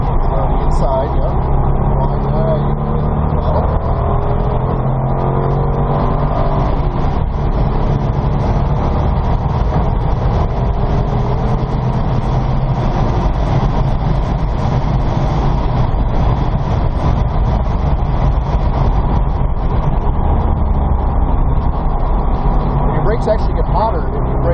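A 2002 Corvette Z06 engine drones loudly and continuously at NJMP Lightning track, its pitch climbing as the car accelerates and then holding, with a person talking over the engine noise.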